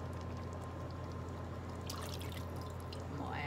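Worcestershire sauce pours into a pan for a spaghetti casserole, a soft steady trickle over a constant low kitchen hum, faint and unbroken with a slight splash near the end.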